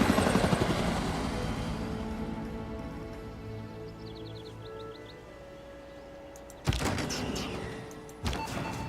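A helicopter unit in Civilization VI gives a loud, continuous rotor drone that fades slowly, then sharp mechanical clunks near the end, no voices.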